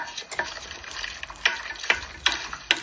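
Dried fish (tuyo) frying in a pan gives a steady sizzle, with regular scraping taps as it is stirred, about one every half second.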